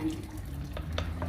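Boiled cauliflower drained of its cooking water in a home kitchen, a brief, steady pour and splash into a sink, moderately close with no talking.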